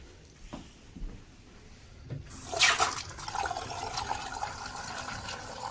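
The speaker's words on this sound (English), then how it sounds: "it'll drain from the top to the bottom" Water drains out of a cabin's plumbing lines, a gurgling rush building after a couple of seconds and then continuing as a steady trickling flow, faint and close.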